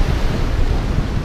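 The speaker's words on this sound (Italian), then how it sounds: "Le onde della morte, hai visto?" Ocean surf rushes in a dense, continuous wash with wind buffeting the microphone, loud and close, and no voices.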